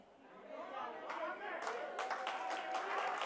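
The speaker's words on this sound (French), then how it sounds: "ça mérite l'applaudissement" A church congregation breaks into clapping and applause during a French-language Sunday service, starting faintly under a talking voice and growing into dense, overlapping claps that swell toward the end.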